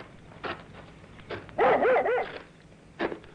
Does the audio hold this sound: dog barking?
yes